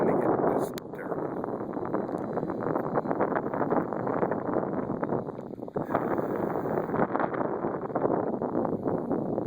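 High wind buffets the microphone at an RC flying field where an Edge 540 QQ from Horizon Hobby is being flown. A constant, loud, rumbling roar fills the air, with people talking over it.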